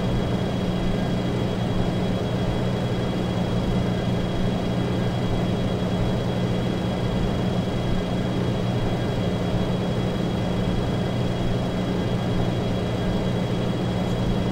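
A steady, unbroken aircraft engine drone in the X-Plane 10 flight simulator game, a constant whir with a tonal hum at an even level throughout.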